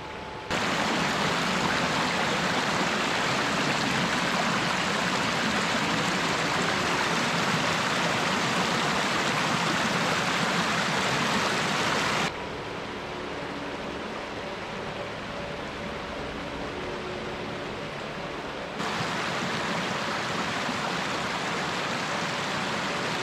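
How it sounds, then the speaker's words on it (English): Stream water gurgling and rushing in the Black Forest gorges, a steady broadband wash of flowing water that is close and loud, briefly softening partway through before returning to full strength. "The sounds of gurgling and rushing are balm for the soul."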